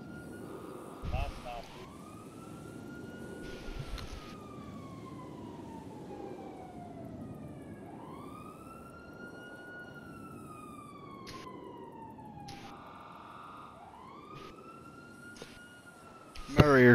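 Ambulance sirens in Grand Theft Auto V wail in long rising and falling sweeps, repeating several times at moderate distance, with speech heard in between and a louder burst at the end.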